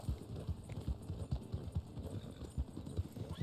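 Horse hooves clip-clop at an easy, regular walking pace in Red Dead Online, soft steady knocks with a faint hum behind them.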